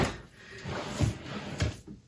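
Drawers in a craft and sewing room holding Cricut tools are pulled open and pushed shut, making three close wooden thumps and sliding rubs spaced about a second apart.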